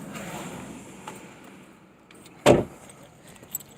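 A car door slams shut once, close and loud, standing out sharply against a quiet, steady background hum.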